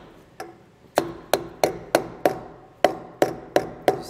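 Sharp metallic taps as a large 1 7/8-inch socket drives an EZ Lube grease cap into a trailer hub, about ten evenly spaced ringing hits, close and alone.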